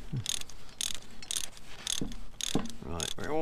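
A ratchet tightens bolts on the hitch of a Massey Ferguson 698 tractor during repair, making about six bursts of clicking in a steady rhythm, close by and moderately loud.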